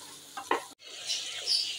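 Tinda (apple gourd) and mutton being stirred and fried in a pot, with a scraping stir and a brief sizzle, then a sharp cut to a steady, fairly loud hiss of frying.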